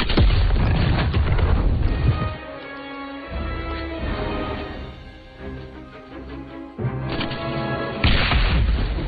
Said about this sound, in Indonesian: Gary langsung menembakinya secara membabi buta